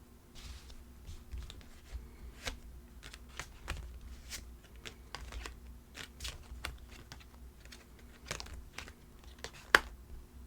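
Tarot cards being shuffled and drawn by hand, a steady run of soft crisp taps and papery flicks with a few sharper snaps, close but quiet, with no talking.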